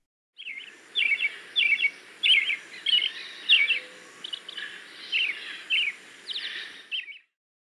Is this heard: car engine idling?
no